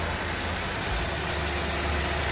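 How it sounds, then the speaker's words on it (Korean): The Theta2 inline four-cylinder engine of a 2016 Kia K7 idles after starting, a steady, even low rumble heard up close and alone with no voices. "저희가 일단 시동을 걸고 엔진 룸을 한번 먼저 이렇게 살펴보겠습니다"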